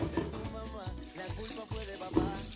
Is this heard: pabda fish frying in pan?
no